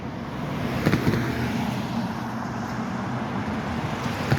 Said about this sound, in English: I didn't even detect that car going through there.